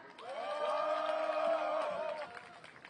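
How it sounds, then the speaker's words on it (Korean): At a street protest march in South Korea against a presidential visit and the APEC summit, a crowd raises a sustained, sung-out cheer as a union leader is welcomed to speak, swelling and then fading over three seconds. "박수로 모시겠습니다."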